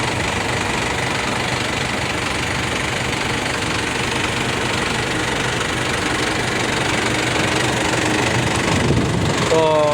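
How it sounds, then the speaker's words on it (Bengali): A 2005-model car engine idles with a steady, even rumble held close and unchanging for the whole stretch, and a brief tonal sound appears near the end. "গাড়ি ইঞ্জিনের সাউন্ড অনেক মিষ্টি"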